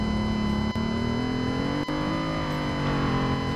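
A gas car engine in a video game hums steadily at a constant pitch, a droning motor tone with faint tonal whine, two brief dips in the sound, no talking.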